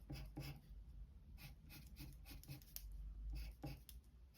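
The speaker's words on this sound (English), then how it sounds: "I'm going to start sketching that." Pencil sketching triangle shapes on paper for a collage lesson, a steady scratchy rubbing of graphite with short repeated strokes, close and fairly quiet, no talking.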